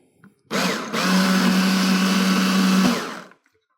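Kitchen food processor blending chicken liver pâté with butter cut into small pieces, a loud steady motor whir starting abruptly, running for about two and a half seconds and then cutting off.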